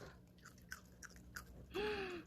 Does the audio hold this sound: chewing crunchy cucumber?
yes